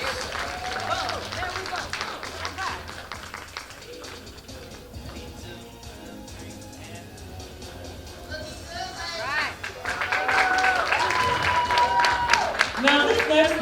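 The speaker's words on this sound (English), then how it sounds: "Give them a round of applause." An audience at a Black History Month event claps for a group of kids. The applause is mixed with a speaker's talk and music-like tones, builds toward the end and stays moderately loud.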